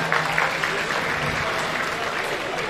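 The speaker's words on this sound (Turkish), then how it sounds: "Evet, kocaman alkış gelsin bu güzel kareye" A crowd at a unity gala evening applauds for a committee, a dense, loud, continuous burst of clapping that fills the whole moment without letup.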